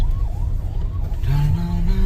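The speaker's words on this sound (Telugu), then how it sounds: "అంబులెన్స్" A wailing ambulance siren rises and falls over the loud rumble of nearby traffic and a running engine.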